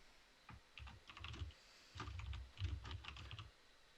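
Quiet typing on a computer keyboard, two short bursts of quick clicking keystrokes separated by a brief pause.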